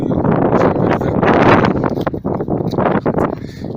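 Gusty wind buffets the microphone in loud, uneven rushes, with rustling and a few brief drops between gusts, beside a sweet cherry tree being pruned.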